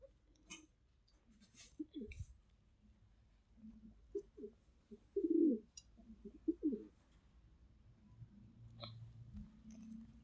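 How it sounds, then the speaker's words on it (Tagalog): Fancy pigeons cooing softly at close range, a series of low throaty coos and short bubbling calls spread through a quiet space with light background rustling. "anong type ng fancy pigeon yung white?"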